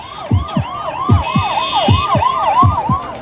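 An ambulance siren wails loudly and close by, its rising and falling tones repeating steadily over low traffic rumble as the ambulance carries a donor heart from a Bangalore hospital.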